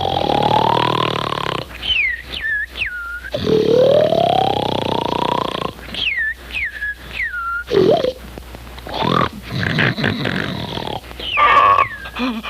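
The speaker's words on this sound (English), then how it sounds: "I can't stand that snoring any longer." A cartoon character snores loudly, with repeated rasping inhales and high, falling whistle-like exhales in a steady rhythm, close and alone.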